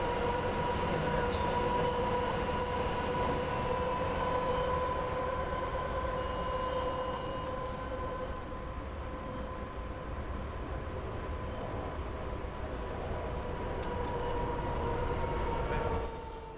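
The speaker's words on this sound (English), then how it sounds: "This locomotive just sounds so good." A locomotive in the European train simulator game runs steadily throughout, a continuous rail rumble with sustained tonal hums and a brief high whine midway, loud and unbroken with no talk.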